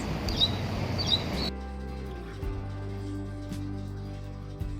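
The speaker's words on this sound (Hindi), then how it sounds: "इसको ना एक पक्षी की आवाज़ आई थी यहाँ पर" A bird gives two short, high chirps in quick succession, moderately faint. A steady low hum of background noise follows, with no talk.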